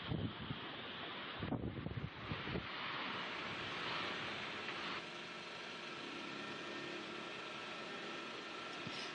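Strong typhoon wind gusts roar continuously into the microphone at a port in Lucena City, Quezon, with heavy buffeting bursts early on and a steady broadband rush like driving rain throughout.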